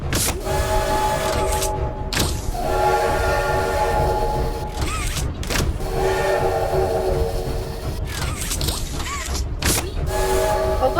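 In Poppy Playtime Chapter 2, a train rolls along with steady mechanical rumbling and repeated loud metallic creaks and squeals. The groans come in bursts throughout, heard alone without talk.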